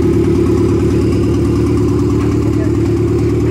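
A car engine that has just been started idles on its own, a loud close steady rumble with an even pulsing beat and no revving.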